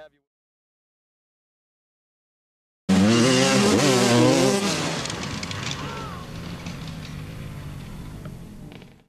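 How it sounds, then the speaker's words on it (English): Motocross motorcycles race at an Axton, Virginia national event. After silence, a loud, close engine bursts in and rises and falls in pitch through revving, then fades steadily as the bikes pull away. "Every summer these motorcycle racers come to AXTON, Virginia and stir up some excitement."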